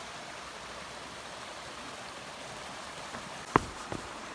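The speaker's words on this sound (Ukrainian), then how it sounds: "отам воно потічок біжить" A mountain stream in the autumn Eastern Gorgany range runs as a steady, soft broadband rush of flowing water, moderately distant and constant, with a couple of brief sharp clicks near the end.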